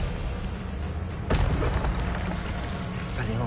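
A spell-casting Expelliarmus blast in Hogwarts Legacy: one sudden, loud burst lands about a third of the way in, rising above a steady, busy bed of game noise.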